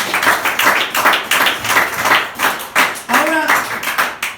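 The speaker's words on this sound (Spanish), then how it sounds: "Denle un aplauso al Señor." A church congregation claps together in a dense, steady round of applause, with voices calling out over it and a brief sung or shouted rising note near the end.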